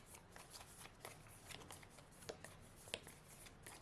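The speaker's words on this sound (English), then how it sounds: "I'm going to shuffle." A deck of cards being shuffled during a solo tabletop card game, with soft riffling and fluttering cards in quick bursts and a couple of sharper snaps, close and quiet with no talking.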